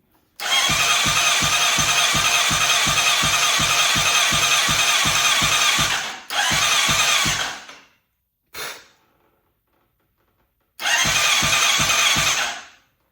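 A Honda CBR600RR engine cranks over on the starter during a compression test in three separate bursts: a long run of rapid, even chugging pulses, then a shorter burst, a brief blip, and a final run, with silences between.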